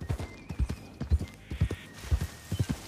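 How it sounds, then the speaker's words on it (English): Horse hooves clip-clop in a steady, close rhythm within a Western role-play video game on a forest trail, about a dozen distinct strikes with a faint whinny and occasional soft voice beneath. "Slow down for my horse is wounded and tired."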